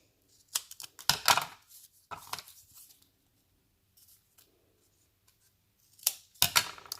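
Scissors trimming the edge of a vellum card-making piece: a few quick bursts of close, crisp snipping separated by quiet pauses.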